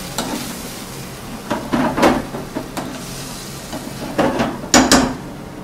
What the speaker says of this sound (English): We just mash all the tomatoes, let it cook faster